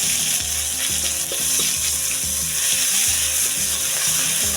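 Ginger frying in hot oil for a restaurant-style egg curry, a loud, close, continuous sizzle with rhythmic clattering of a spatula stirring against the pan underneath.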